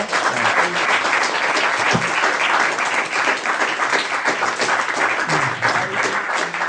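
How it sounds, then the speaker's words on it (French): Sustained applause from an audience at a TV series fan convention, greeting a newly arrived voice actor; a thick, even wash of many hands clapping, loud and continuous throughout. "on va d'abord applaudir Patrick Osmond, qui vient d'arriver"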